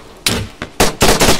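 Several loud, sharp gunshots ring out in the video game Arma 3, a few separate cracks followed by a tighter burst, close and punchy with no talking.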